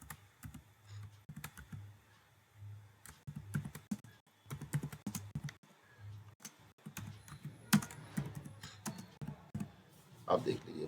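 Keys clatter on a computer keyboard in quick irregular bursts of close clicks, with brief pauses between runs, while a person talks in Hindi over the typing.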